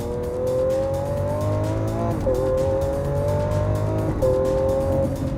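A 2017 Lamborghini Aventador S drives steadily on a track, its engine holding a loud, continuous tone heard from inside the car, with the pitch dropping briefly at two gear shifts.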